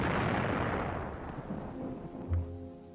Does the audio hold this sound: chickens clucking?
no